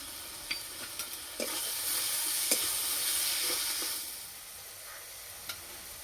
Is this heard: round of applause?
no